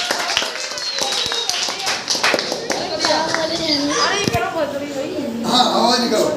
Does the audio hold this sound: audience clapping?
yes